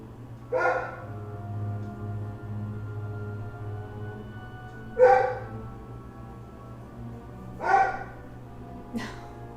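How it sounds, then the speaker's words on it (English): A dog barks from somewhere outside the room, four separate barks spread across several seconds with long pauses between them, heard over a steady low indoor hum. "She's just gonna bark."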